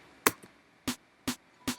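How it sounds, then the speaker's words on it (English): Four short punchy hits sound alone, a Vengeance sample-pack snare layered onto a hardstyle raw kick, each a crisp snappy crack with a quick decay, spaced at a fairly even tempo and fairly quiet. "And then I just take a Vengeance snare and I add it to it."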